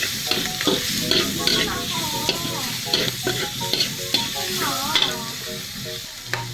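Pork sautés with shrimp paste in a pan, a continuous sizzle broken by repeated scraping and clattering strokes of a utensil stirring the mixture, fairly close and busy, with no one talking.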